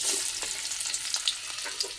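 Oil crackles and sizzles busily in a pan during tapioca cooking, a dense, continuous fry with sharp little pops scattered throughout, close and fairly quiet with no talking.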